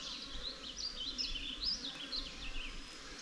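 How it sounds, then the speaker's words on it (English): Honeybees buzzing as they are moved into a new hive on a homestead, a steady, soft swarm hum with individual bees whining past close by. "You get to move the most bees at once to your new hive"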